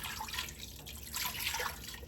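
Water poured into a pot for Kapampangan beef ribs asado, a steady close splashing trickle running continuously with no talk.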